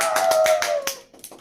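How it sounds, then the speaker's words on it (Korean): A few people clapping in a maths class on trigonometric ratios, about half a dozen sharp, close claps over a held tone, then fading into a couple of softer taps. "이 정도면 박수 나와야 된다."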